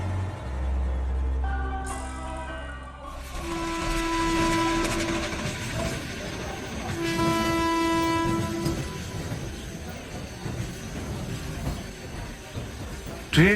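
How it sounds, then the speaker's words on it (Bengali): A train pulls into a platform as a sound effect, with rumbling wheels and a loud sustained horn blast followed by a second horn, then the rolling clatter continues and fades. "ট্রেনটা যখন প্ল্যাটফর্ম ছুঁল,"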